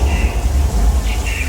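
Rain and thunder special effects on a studio tour set make a loud, dense hiss of falling water with deep rumbling underneath, while voices are heard over it.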